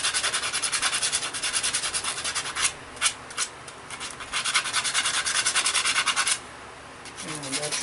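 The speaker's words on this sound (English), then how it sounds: "want to sand the dowel rod just to make sure there's no little splinters on it" Steady rhythmic sanding, fast back-and-forth rubbing strokes on a wooden dowel rod, close and loud, pausing briefly before resuming, then stopping near the end.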